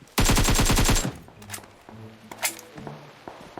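A rapid burst of automatic fire from an AKM or UMP in PUBG Mobile, about eight loud, evenly spaced shots, then quieter clicks and a few faint distant shots under low background sound.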